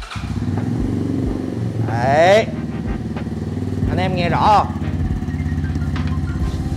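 Brixton Cafe Racer motorcycle fitted with an aftermarket Cardinals exhaust, its engine idling with a steady, deep throb throughout, close by, while someone talks over it.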